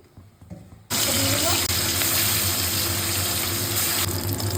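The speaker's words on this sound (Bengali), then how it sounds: "মাছটা এখন ভেজে নিই।" Rui fish drops into hot oil with an abrupt surge of loud, dense sizzling that holds steady and close, after a quieter stretch at the start.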